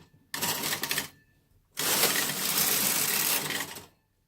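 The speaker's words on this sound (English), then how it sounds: "the machine selected all the needles needed to knit the pattern" A Brother KH-900 electronic knitting machine selects needles in two bursts of rapid, dense mechanical clatter, a short one then a longer run of about two seconds, close and clear with no talk.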